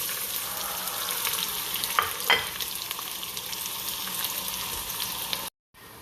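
Onion sizzling in oil in a pan for a macaroni dish, a steady, close hiss with a couple of brief clinks, cutting off abruptly near the end.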